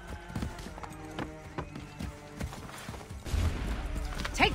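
A horse in Assassin's Creed III clip-clops with rhythmic hoofbeats, mixed with game sound effects and a brief whinny-like cry near the end, the texture thickening in the last second.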